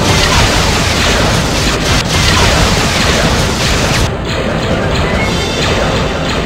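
A starship explodes in the Star Trek Bridge Commander game, a loud sustained crashing roar that rumbles on for several seconds before cutting to a quieter tail.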